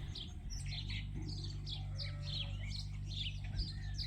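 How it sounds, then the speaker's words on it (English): Several birds chirp and tweet outdoors on a sheep farm in quick overlapping calls, over a steady low tractor engine drone. "you can hear we have a lot of birds here"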